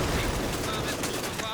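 Continuous heavy gunfire and explosions from the World War II strategy game Company of Heroes 2, loud and dense with rapid overlapping bursts filling the whole moment.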